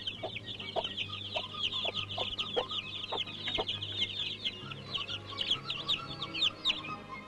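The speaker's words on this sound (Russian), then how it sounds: "Повернула курица цыплят другим боком и снова квохчет." A hen clucks repeatedly to her chicks, with soft, steady clucks close by and continuous high chick peeping underneath.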